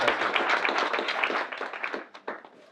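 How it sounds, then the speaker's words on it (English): A small audience at an impact evening claps for the presenters, moderately loud applause that thins out into a few scattered claps before stopping. "So I'd like big applause for everyone who was also presented so far"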